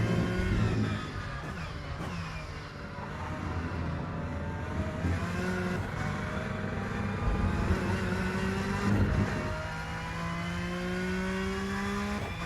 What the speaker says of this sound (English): you can hear the TC working a lot